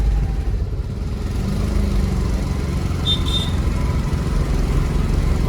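Car engine straining in a low gear on the steep climb up to the gates of Chittorgarh Fort, a loud continuous drone with road rumble throughout.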